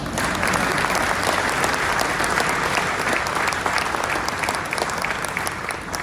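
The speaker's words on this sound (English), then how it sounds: "Come on, you can clap for that." A crowd at a Petersburg, Virginia event claps steadily and loudly in a dense, even wash of applause that lasts throughout without a break.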